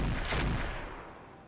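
A battle mech's weapons firing in the RogueTech mod of the BattleTech strategy game, one heavy booming discharge that rings out and decays over about a second, loud and close.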